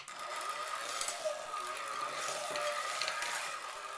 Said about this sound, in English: So we'll take our blender. Now, you can start mixing on low.